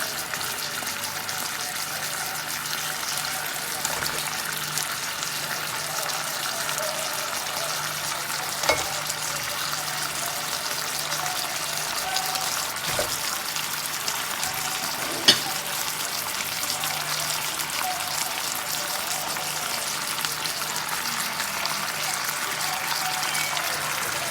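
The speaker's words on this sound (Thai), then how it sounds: "มันเดือดแล้วนะคะเราก็ใส่มะเขือเลย" Red curry with eggplant boiling in a pot, a steady dense bubbling hiss that holds evenly throughout, with a few isolated clicks and knocks.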